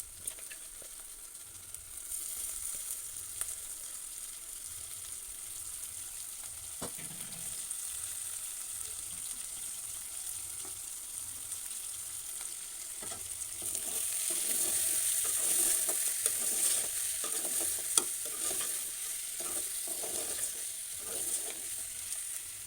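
Tender lamb head pieces frying in a pan for curry, a continuous hissing sizzle that grows louder and denser partway through, with occasional stirring clicks and no speech.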